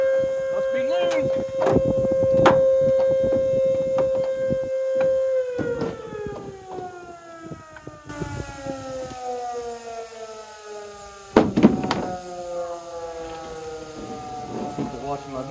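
A town noon siren like an air raid siren wails at a long, steady pitch, then slowly winds down, with someone talking over it and sharp clanks from nearby work.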